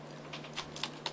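Typing on a computer keyboard: a few quick, light key clicks sound up close over a faint steady hum, with no voice.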